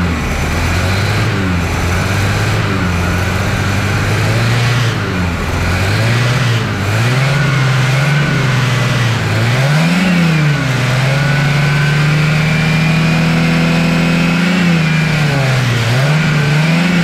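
Chevrolet Kadett engine with a carburetor needing cleaning revving up and down close by, loud uneven swells of pitch as the throttle is blipped, running continuously without talk.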